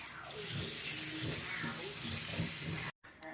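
Water from a kitchen tap pours steadily into a pot of cut Yukon Gold potato chunks, a close, continuous rushing splash that cuts off abruptly near the end.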